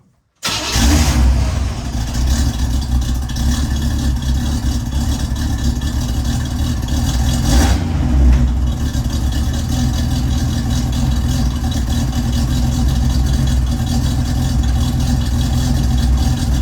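A 1984 C4 Corvette with a modified exhaust starts and settles into a loud, deep, steady idle that runs on close by for the whole stretch, with a brief swell partway through.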